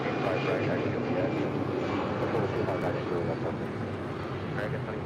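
Airliner taking off from runway 25 right at LAX, a loud sustained engine roar steady throughout, with a radio voice talking over it.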